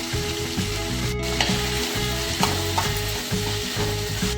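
Finely chopped tomato sizzles and fries in a tempering with onions for uppittu, with a loud, continuous crackle interrupted by occasional scraping stirs of a spatula against the pan, and nobody speaking.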